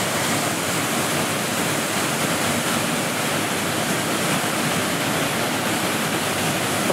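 The Fotinovo waterfalls near the village of Fotinovo roar as a dense, steady rush of falling water, loud and close, with no pauses.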